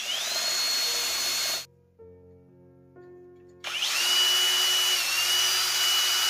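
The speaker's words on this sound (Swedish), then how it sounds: "Nu börjar jag ju att borra igenom backventilen, den som normalt sitter högst upp på" Power drill boring through the back valve at the top of a gas canister: a loud steady whine, a two-second drop to low hum as the bit pauses, then the drilling roars back louder and close.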